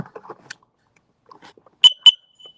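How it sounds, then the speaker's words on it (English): Carbon monoxide alarm being tested, two sharp, loud electronic beeps in quick succession after quiet mouth sounds and faint murmuring nearby. "Carbon monoxide alarm."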